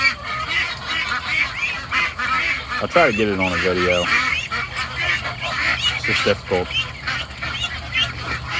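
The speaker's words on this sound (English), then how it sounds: "Like this duck in particular. She sits there and looks at me and quacks." Ducks quack and honk loudly around a person at feeding time, a dense, noisy flock calling over and over close by while someone talks through it.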